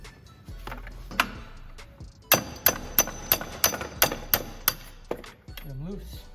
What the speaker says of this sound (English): what you're gonna want to do next is the 7/8 open-handed wrench. You're gonna want to take off the O2 sensors.